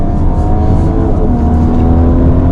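A 2019 Audi A5 Sportback quattro accelerating hard, its loud steady engine roar and road rumble filling the cabin with no breaks or talk.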